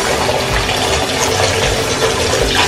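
Hot water runs steadily from a faucet into a vessel sink, a continuous broad hissing splash at close range with no voices.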